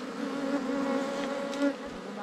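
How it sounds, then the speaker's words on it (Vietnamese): Wild honey bees swarm over a freshly caught hive as they build new comb, a dense, steady close-up drone of buzzing wings that swells briefly near the end. "những con ong no nó đang bò lên này"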